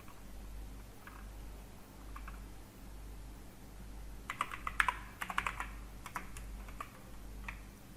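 Typing text on a computer keyboard, quiet at first, then a denser burst of close, crisp key taps in an uneven rhythm over a low room hum.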